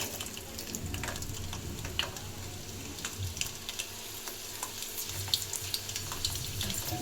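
Ten to twelve garlic cloves frying in hot oil while making raw mango pickle, a constant crackling sizzle with scattered sharp pops, close and moderately loud, no voices.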